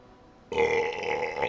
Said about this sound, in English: A slow build to a giant burp.